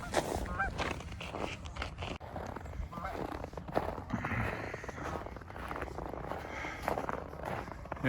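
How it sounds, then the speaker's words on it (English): Geese honk repeatedly by icy water, loud and close, their calls mixing with a person talking and splashing outdoor noise throughout. "yes, geese, you're gonna have to run."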